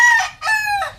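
A backyard rooster with white legs crows twice, close and loud, its long cock-a-doodle-doo calls broken by a short gap.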